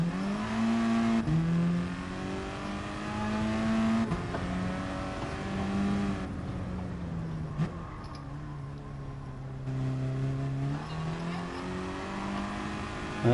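Steady engine drone of a car lapping a track during practice in Gran Turismo Sport, with the pitch rising and falling through gear changes and corners, loud and continuous with no talk.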